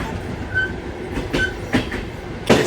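A Trans-Mongolian passenger train runs on the rails between China and Mongolia, with a loud, steady rumble broken by sharp rhythmic clacks and thumps as the wheels cross rail joints.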